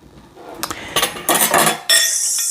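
A utensil mixes sourdough pancake batter in a bowl, heard as close bursts of scraping and clinking against the bowl, several quick strokes followed by a louder, brighter scrape at the end. No one speaks.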